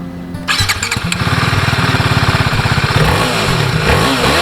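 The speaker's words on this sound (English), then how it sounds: "Exhaust note, let's hear it." TVS Apache RR310 motorcycle starting up, then idling with a loud, rapid, pulsing exhaust note before a couple of quick revs rise and fall, close to the exhaust and with no talk.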